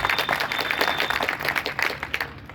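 An audience claps at a Hindi poetry recital in Ayodhya, a lively burst of many hands at moderate distance that rises and then gradually fades toward the end, with no talking over it.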